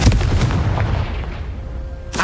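Confringo fire spell in the Hogwarts Legacy video game bursting with a loud, close boom that rumbles and fades over about a second, followed by a brief sharp whoosh at the end.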